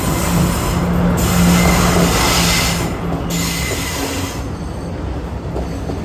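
Colombo to Jaffna night mail train in motion, a loud continuous rumble of wheels on rails with faint squealing, heard from inside a carriage with no talk.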